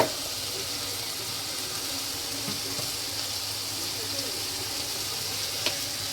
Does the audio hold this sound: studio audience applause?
no